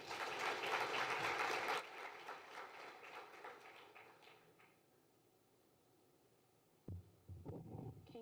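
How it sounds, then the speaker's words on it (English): At the Howard University College of Medicine anatomy donor memorial service, an audience claps in a loud burst that tapers off over a few seconds into quiet, followed later by a thump and some rustling. "Please give her a warm round of applause."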